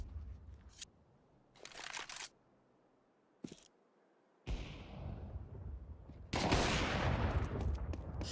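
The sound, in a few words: USP pistol gunfire in Counter-Strike video game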